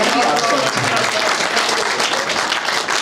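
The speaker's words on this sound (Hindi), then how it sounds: "जरा मुझे भी थोड़ी सी तालियां बजा कर बता दीजिए" An audience at a Hindi poetry gathering claps together in a sustained, dense burst of applause, loud and close, with some murmuring voices mixed under it.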